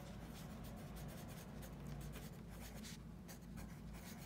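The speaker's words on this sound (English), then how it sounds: "So I'm gonna write determine" Pencil or pen writing words on paper during a math lesson, a faint, continuous scratchy rubbing with short strokes, close and quiet with no talking.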